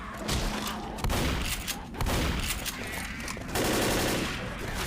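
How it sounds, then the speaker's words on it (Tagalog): Shotgun blasts in the Left 4 Dead video game fire in quick, repeated bursts, loud and close, over a dense clatter of in-game combat. "Ito yung magandang shotgun."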